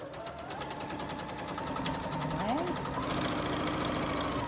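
A home sewing machine stitches quilt-as-you-go strip blocks with a steady, close mechanical whir that holds through the clip, with some low motor knock underneath.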